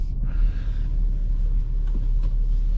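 A 2022 BMW X5 xDrive40d SUV rolls off and turns around, with a low steady engine and road rumble heard from inside the cabin and a brief faint rustle near the start.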